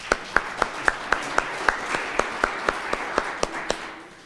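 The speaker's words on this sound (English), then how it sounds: "We can give them a round of applause" A meeting audience gives a round of applause at an annual meeting held at Water Tower Place, but only a few hands clap steadily in a regular rhythm of distinct claps that fade slightly toward the end.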